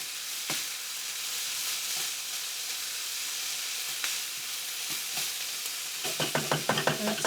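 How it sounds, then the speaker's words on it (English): Black fungus mushrooms are tossed and stirred in a hot pan on high heat, giving a continuous close sizzle with occasional spatula scrapes and a burst of clattering stirring at the end. "The black fungus mushroom. Give that a little bit of toss."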